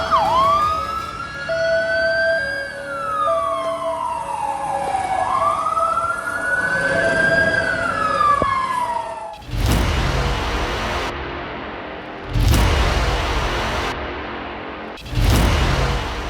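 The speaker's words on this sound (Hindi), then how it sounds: "तबाही से अलर्ट करने के लिए सायरन सुनाई" Wailing warning sirens sound in Russia after an earthquake raised a tsunami alert. Two loud rising-and-falling sweeps give way to heavy low rumbling, with broadband noise bursts breaking in near the end.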